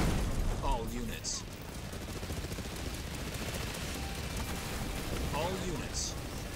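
Constant battlefield gunfire and explosions rumble under radio chatter in the real-time strategy game Halo Wars 2, a dense, steady barrage with voices speaking over it.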